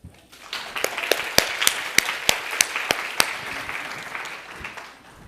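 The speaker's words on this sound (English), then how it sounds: "Round of applause." Audience applause fills a room at a talk, a dense clapping wash with a few sharp individual claps standing out, rising quickly and fading near the end.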